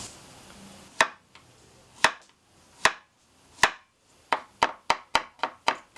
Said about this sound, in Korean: 애호박 채 썰어 볼게요